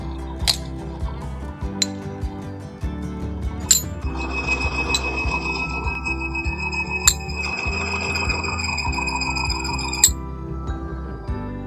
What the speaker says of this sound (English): we're going to start adding these weights